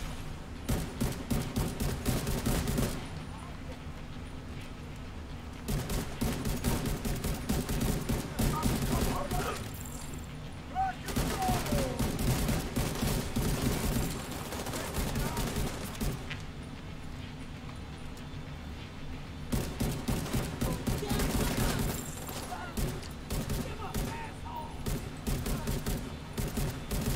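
Gunfire in The Division 2 video game: sustained rapid bursts of automatic shooting that come in long stretches broken by brief pauses, loud and continuous across the clip.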